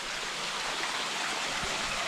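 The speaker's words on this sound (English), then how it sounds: "There is a side river here, much smaller than the main river." A small side river in Andalucia flows steadily as a continuous, close rushing wash of water with no voices.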